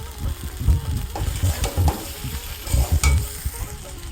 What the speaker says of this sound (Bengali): এবার আমি দিয়ে দিচ্ছি কিছুটা আদা বাটা আর জিরের গুঁড়ো আর পরিমাণ মতো লঙ্কার গুঁড়ো